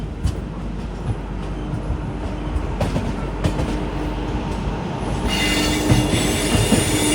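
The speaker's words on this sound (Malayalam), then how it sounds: "തിരുവനന്തപുരം സെൻട്രലിൽ നിന്ന് മുംബൈ ലോകമാന്യ തിലകിലേക്ക് പോകുന്ന നേത്രാവതി എക്സ്പ്രസ് ആണ് ഈ കടന്നു വരുന്നത്" Netravati Express, running from Thiruvananthapuram Central to Mumbai Lokmanya Tilak via Alappuzha, passes near Kollam with a steady loud rumble of rail cars and wheel noise that swells toward the end as the coaches roll by.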